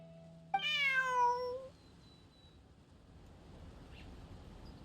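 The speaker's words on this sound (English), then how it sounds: "Bonnie is Pierre's cat." A domestic cat in the Genshin Impact video game gives one clear, drawn-out meow with a falling pitch, heard alone over a quiet ambient background.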